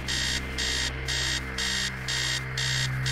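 An alarm clock rings in the Stories Untold horror game, a loud electronic beeping in steady bursts of about half a second with short gaps, repeating throughout over a low hum, with no voices.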